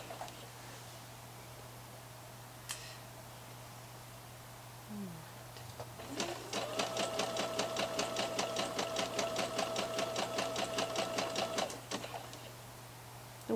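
A domestic sewing machine stitches jersey fabric for a sweatshirt in one rapid, even run of close needle strokes lasting several seconds, preceded by a quiet hum and a few small clicks.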